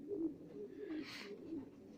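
Breeding birds, likely pigeons or doves, shut in their boxes in an aviary, soft repeated cooing calls under a faint airy rustle, close and quiet.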